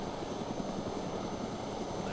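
Huey helicopter in the video game DayZ, a steady low rotor and engine drone that holds at an even level for the whole moment, close and continuous.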